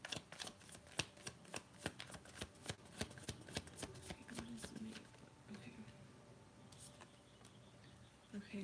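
A deck of tarot cards is shuffled by hand in rapid, crisp riffles and clicks, dense and close for the first half and then softer and sparser.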